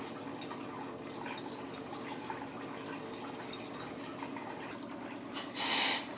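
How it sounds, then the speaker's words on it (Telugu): Water trickles and splashes steadily into dough throughout at a close, moderate level, ending in a brief louder hiss. "ఇప్పుడైతే వాటర్ వేసేసుకుందాము"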